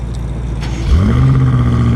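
A stock BMW M5 engine cranks and fires about midway, settling into a low, smooth, fairly quiet idle that holds steady to the end.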